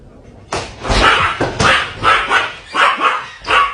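A house dog barks repeatedly and loudly at close range, a run of about seven sharp barks in a fairly steady rhythm with brief gaps between them.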